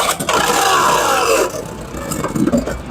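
Beyblade X tops, including a ShelterDrake, spin in a plastic stadium, giving a loud, continuous whirring grind with scraping clashes and rattling knocks as they collide.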